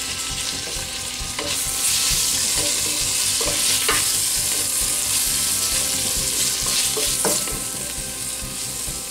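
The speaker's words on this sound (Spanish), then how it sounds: "Agregamos el tocino." Bacon frying in a pan makes a loud, continuous close sizzle with crackling pops, and periodic scraping stirs break through the steady hiss.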